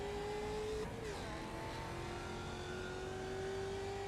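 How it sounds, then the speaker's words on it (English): A V8 race car engine droning steadily at high revs at Sonoma, with a brief pitch dip as it shifts, recorded onboard and fairly faint. "Let's listen to that V8 rumble."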